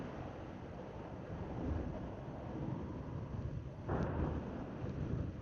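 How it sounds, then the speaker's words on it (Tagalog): Steady roaring wind buffets the microphone while riding a PCX160 scooter along a bypass road, a broad constant rush that swells louder near the end, with no talk. "Medyo mahangin na dito."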